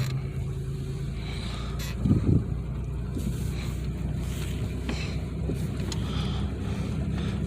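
A 1993 Chevy Lumina driving slowly around the block, heard from inside as a steady low engine and road rumble with wind noise, one brief louder bump partway through.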